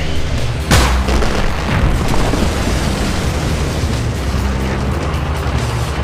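A demolition charge detonates at the century-old Marmot Dam during its removal, a sharp loud boom followed by a long rumbling roar and debris noise that stays heavy for several seconds.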